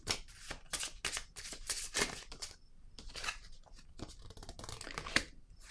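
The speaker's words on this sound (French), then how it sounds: "Je vais déposer une autre carte ici." Cards are handled and laid on a table during a card reading, including a pink card, making quiet, close papery swishes and soft slaps in quick irregular bursts without speech.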